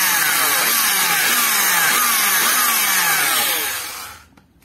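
An old 210-watt Ryobi corded drill boring with a 15 mm bit, a loud steady whining motor with repeated descending pitch sweeps as it bites, then stopping abruptly near the end.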